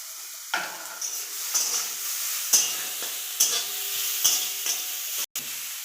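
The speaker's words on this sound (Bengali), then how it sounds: "গাজর আর বিট ভেজে নিচ্ছি" Carrot and beetroot frying in a pan, a soft continuous sizzle broken by repeated scraping stirs of a spatula, close and fairly steady, with a sharp knock near the end.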